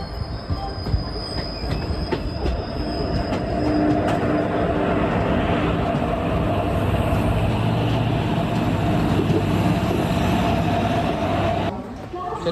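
An Indian Railways express, the Chennai Egmore–Salem superfast, departs with loud rolling wagons, squealing wheels and clattering rail noise throughout, fading near the end, with faint voices in the background.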